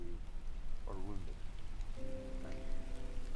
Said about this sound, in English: It's just the rain, though.